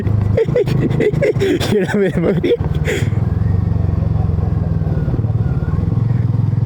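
A motorcycle engine runs steadily under a rider's talk, a low continuous rumble with rattling that continues alone after the speech stops.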